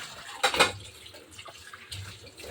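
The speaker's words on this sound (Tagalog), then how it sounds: "patapos na nga ako pala sa paghuhugas" Dishes being washed at a sink, a brief splash and clatter of running water against plates, then a softer second splash, nearby and moderately quiet.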